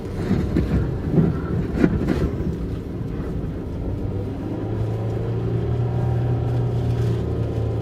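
A car on all-season tyres strains up a slippery hill in low gear, its engine droning loud and close with a low, steady rumble that rises into a sustained higher hum as it pushes on.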